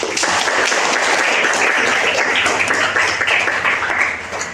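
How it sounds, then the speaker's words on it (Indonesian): A classroom audience gives a classmate a round of applause, many hands clapping loudly and continuously before tapering slightly at the end, with no voices heard. "Kita beri applause dulu untuk teman kita."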